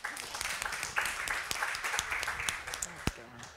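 Audience at a Swedish panel seminar on public procurement law claps for a panelist: a quiet, scattered round of individual hand claps with distinct sharp hits, thin and uneven rather than a full ovation.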